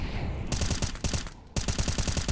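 Rapid automatic bursts from a suppressed M4A1-S rifle in CS:GO, tight repeated shots in two quick strings with a brief pause between, loud and close.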